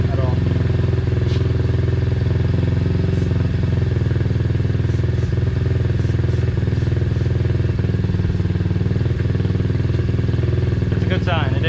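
An Apollo Z20 pit bike engine idles steadily and close during a carburetor air-leak check, a constant putter with slight rattles, and people speaking over it.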